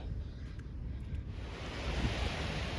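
Ocean waves at the beach wash in as a steady, broadband surf roar, loud and close, with slight swells and a faint windy hiss throughout, no voices present.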